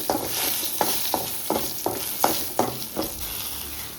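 Mustard seed and garlic tempering poured into a Palakkad-style curry, giving a run of sharp, rhythmic sizzling bursts roughly every half second over a steady frying hiss, close and fairly loud, with no talking.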